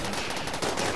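Rapid automatic gunfire and shots fill a tactical colony-combat battle in RimWorld, with mechanoid enemies under attack, a dense, loud, continuous rattle that masks any other sound.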